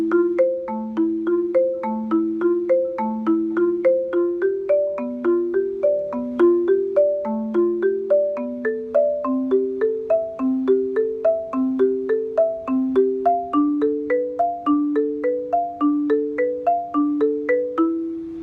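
A marimba plays a four-section pattern, each pattern repeated four times, as a steady, even stream of mallet notes stepping between alternating pitches, clear and unaccompanied.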